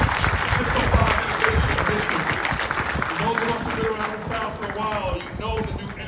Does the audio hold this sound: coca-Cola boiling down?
no